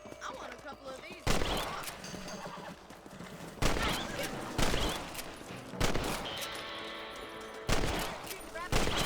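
Rifle shots aimed at rabbits in Red Dead Redemption ring out as four sharp, widely spaced cracks, with horse whinnies and clip-clop hooves between them.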